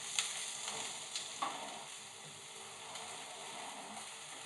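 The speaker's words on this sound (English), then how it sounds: "softening them up, and I've got my garlic in there to soften it up" Onions and garlic simmer and soften in a pan for soul food collard greens, giving a steady faint sizzle with a few light clicks of stirring near the start.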